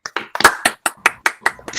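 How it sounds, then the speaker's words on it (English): A small group claps at a tech meetup, producing about nine sharp, evenly spaced claps in a steady rhythm, close and distinct with quiet gaps between them. "I want to give her a clap."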